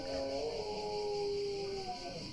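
A dog howls and cries in a long, wavering whine that rises and falls for a couple of seconds, moderately distant, against a steady outdoor hum on a Greek island.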